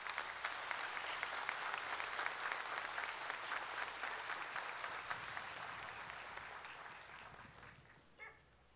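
A crowd at an outdoor Easter Resurrection Mass in Manchay's Plaza de Armas applauds steadily for several seconds, the dense clapping slowly tapering off, with a dog barking briefly near the end.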